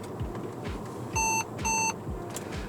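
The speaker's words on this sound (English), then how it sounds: "That was actually the pre-collision warning. So every now and then you actually hear that sort of beeping noise." A 2018 Mercedes-Benz GLA45 AMG's pre-collision warning gives two short electronic beeps in quick succession, clear above the steady rumble of the car's cabin on the road.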